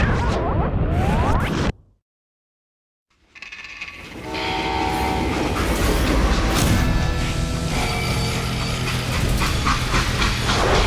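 A video game train rumbles with a blaring horn and hissing steam, cut by a brief silence before the loud mechanical din resumes.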